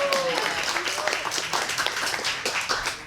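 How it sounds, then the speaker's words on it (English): An audience claps in a steady wash of applause at a Project Censored lecture in Petaluma for a sociology professor and his students, dense and continuous, with a few faint voices mixed in. "Big round of applause for Peter"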